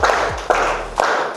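Classroom of students clapping hands together on a count, three sharp unison claps about half a second apart, close and loud.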